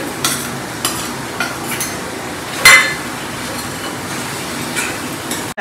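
Paneer tossed into frying masala is stirred in a pan, a soft continuous sizzle broken by a few scraping spoon strokes and one loud clinking knock midway, close and clear with no voices.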